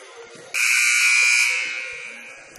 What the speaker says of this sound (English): So there's the first buzzer.